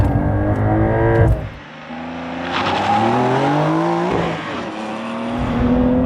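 A 2023 Porsche 911 Carrera T launching hard from a standstill, engine revving high, then rising through gears with a brief dip at each shift, loud and close from the cabin, with no talking.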